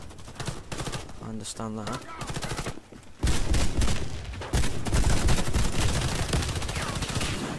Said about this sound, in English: People don't aim with an auto shotgun in this game.